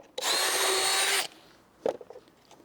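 A power drill drives a screw in one loud, steady whir of about a second, then stops. A brief knock and some handling noise follow, with no talking.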